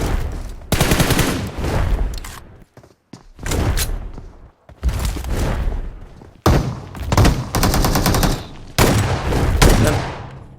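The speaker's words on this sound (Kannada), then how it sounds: "ಪಂಪ್ ಗನ್ ಎತ್ಕೊಂಡ್ ಪಚ ಪಚ ಅಂತ ಹಿಂದೆಯಿಂದ ಹೊಡಿತು ಅವನು" Heavy bursts of pump shotgun fire roar in separate clusters with short pauses between, punchy and loud, in a Battlegrounds Mobile India squad match.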